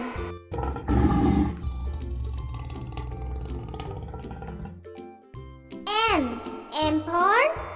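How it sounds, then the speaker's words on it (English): Lion roars alternate with a voice naming letters of the alphabet over soft background music, with rising, swooping cries sounding near the end. "L for lion."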